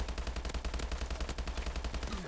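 Automatic gunfire from an assault rifle in the Call of Duty video game, a steady rapid stream of close, loud shots with a punchy low thump running the whole time.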